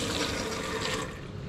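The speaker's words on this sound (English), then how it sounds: "So obviously there's water." Water running from a tap in a van kitchen, a close, loud steady gush that cuts off near the end.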